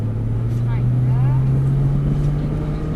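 A Porsche Boxster accelerates along a track straight, its engine giving a steady, loud drone that climbs slightly in pitch, heard from inside the car with a voice speaking over it.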